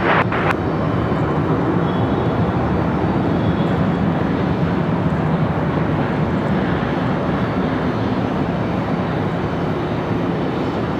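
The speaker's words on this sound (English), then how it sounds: "Delta 1097, right here, our 737 from Atlanta." Delta Boeing 737 jet arriving from Atlanta at Raleigh-Durham International Airport, a loud, steady broadband engine roar that holds throughout, with a brief sharp noise at the very start.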